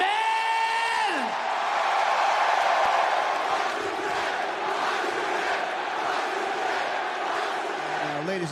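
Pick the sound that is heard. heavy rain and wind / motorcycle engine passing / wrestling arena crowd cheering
wrestling arena crowd cheering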